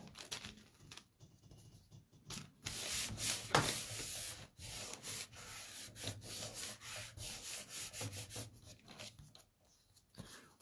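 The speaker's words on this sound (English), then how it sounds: "my tape runner does not like to work on this foil paper, so I'm putting it on my card front." Rubbing, scraping strokes of a tape runner laying adhesive onto a foil paper card front for a handmade Thanksgiving card, in irregular bursts with short pauses, close and fairly quiet.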